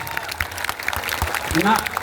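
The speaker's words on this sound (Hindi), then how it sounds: "तो बजाइए जोर से ताली" A crowd at a political rally speech in Patna claps in a dense burst of applause, with a voice speaking over it.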